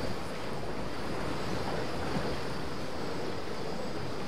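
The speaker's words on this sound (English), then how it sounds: "out on the water, the weather is cloudy, winds out of the east at force 6" Wind and waves on open water in the Virtual Skipper 5 sailing race game, cloudy weather with force 6 easterly winds, a continuous broad wash of surf and gusting wind, steady and fairly loud with no talk.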